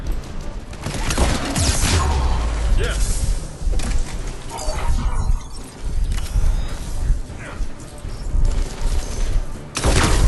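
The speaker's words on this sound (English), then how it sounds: "I heard the gunfire, so I knew somebody was there" Bursts of Mass Effect 3 gunfire crackle loudly and repeatedly, overlapping with explosions and mechanical clatter in a busy, continuous barrage.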